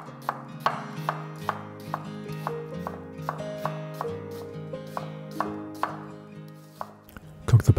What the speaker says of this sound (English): Half an onion, thinly sliced.